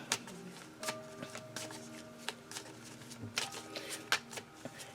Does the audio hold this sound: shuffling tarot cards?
yes